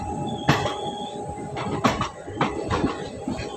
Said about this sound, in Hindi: हावड़ा दिल्ली चंडीगढ़ एक्सप्रेस